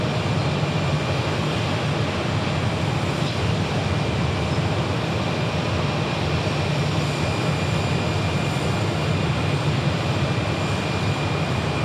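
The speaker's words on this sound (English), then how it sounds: "Cessna Bravo, I'm guessing. A Cessna Bravo." A Cessna Citation Bravo private jet at Sky Harbor Airport, its engines a steady, loud broadband roar that holds evenly throughout with no talking.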